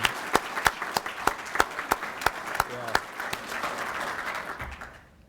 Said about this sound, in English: one more round of applause for First Sergeant Blanton